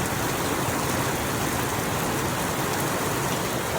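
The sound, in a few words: rain falling during a drive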